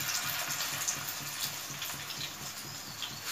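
Lauki (bottle gourd) koftas going into hot mustard oil, giving a steady, fairly loud broadband sizzle and bubbling of frying that carries on evenly without pause.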